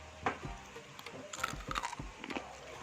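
Hot fried peanuts with fried garlic and kaffir lime leaves crunch between the teeth in a few sharp bites and chewing crackles, close and fairly quiet, with faint background noise.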